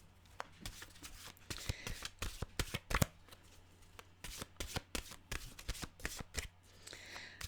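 Mantra cards being shuffled by hand, with a close, lively run of riffling and sliding bursts that pause briefly before the shuffling resumes, without any talk.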